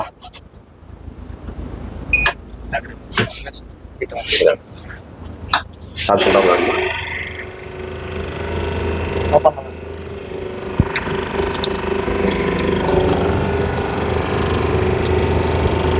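A hydraulic compression testing machine for construction materials starts with a few sharp knocks and clunks, then settles into a loud, steady mechanical hum and rumble that runs on to the end.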